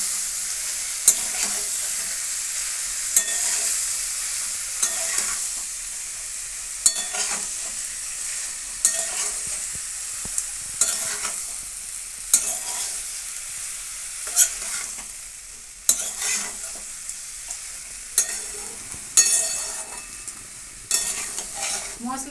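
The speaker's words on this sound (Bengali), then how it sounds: "সয়াবিনের সঙ্গে মশলাটা আবার একটু নেড়ে নেবো।" Soybeans stirred with masala in a frying pan, a spoon scraping and knocking against the pan in repeated strokes about every second or two, over a soft continuous sizzle, close and clear with no talk.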